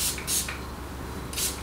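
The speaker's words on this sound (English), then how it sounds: "I am gonna use this spray and spray this in" Hair styling spray mists onto hair in short bursts, two quick sprays at the start and another near the end, close and hissy.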